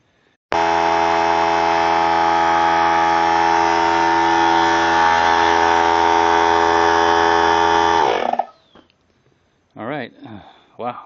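A 3-gallon pancake oilless air compressor runs with a loud, steady mechanical drone and strong hum for about eight seconds, then cuts off abruptly, followed by brief faint handling noises.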